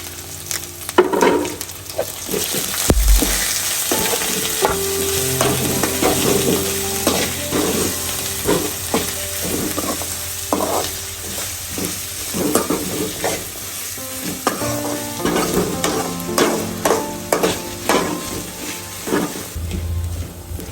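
Crushed ginger, garlic and dried red chillies fry in hot oil for a Kerala-style beef roast, a continuous loud sizzle broken by frequent spoon scrapes and clatters against the pan, all without speech.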